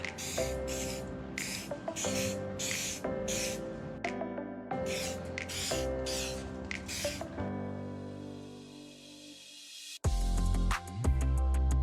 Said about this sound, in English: hit it with another coat of spray paint